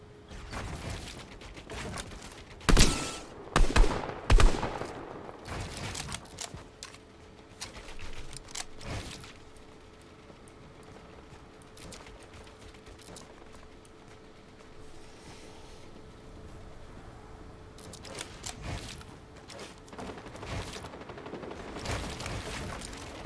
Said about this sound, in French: 3 personnes ont tiré sur Xenoli.